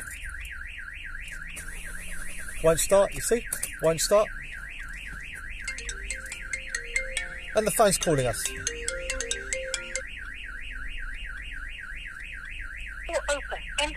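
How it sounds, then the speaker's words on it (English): A Vauxhall Vivaro van alarm wails in a steady rapid warble throughout, triggered by opening a door, with a person speaking over it and some electronic beeping tones partway through. "Open door. Alarm's going to trigger."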